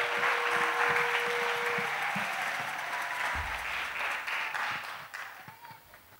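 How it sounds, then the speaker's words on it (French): Church congregation applauds during a prayer service, a dense, steady wash of many hands clapping that gradually thins and fades toward the end, with voices mixed in. "Clap for Jesus."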